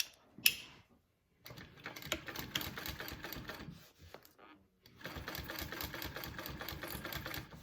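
A sewing machine stitches binding onto a Vekza bowler bag in bursts of rapid mechanical clatter, with a click near the start, a short pause and then steady running to the end.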